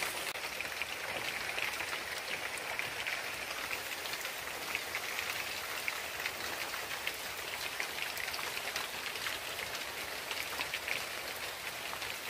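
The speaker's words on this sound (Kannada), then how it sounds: "ಇವಾಗ ಮಳೆ ಬರ್ತಾ ಇದೆ" Steady rain falls outside in a constant, even hiss of drops striking surfaces, faint and unbroken throughout, with no voices.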